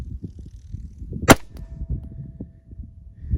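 A Taurus G3 9mm pistol fires one 124 grain reload, a single sharp loud report with a brief ring-off, standing alone against low background rumble.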